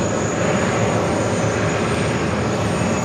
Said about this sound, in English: This is that Challenge Airlines 747-400 freighter.